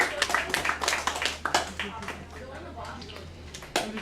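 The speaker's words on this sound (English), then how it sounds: "That was a tired clap at the end, like somebody got tired and ran out of gas." At a comedy night in a bar, a small audience gives scattered, tiring claps that thin out, with a loud voice talking over them.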